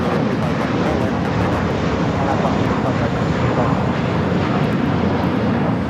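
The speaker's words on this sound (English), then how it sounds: "This is American Airlines Flight 4 taking off to JFK on the A321" An American Airlines Airbus A321 jet takes off at Los Angeles LAX, a loud, steady broadband engine roar that holds strong and unbroken throughout.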